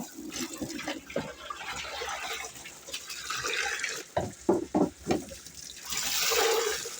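Water pours and splashes as tubifex worms are rinsed in a container, a continuous rushing flow broken midway by several sloshing swirls, then a rising pour at the end.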